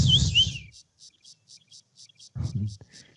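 A person whistles a brief, high, sliding call imitating a white-faced whistling duck. Soft rhythmic chirps follow, and then someone speaks.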